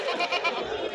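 A goat bleats briefly and wavers at a busy weekly sheep and goat market in Kadiri, close and moderately loud over the market din.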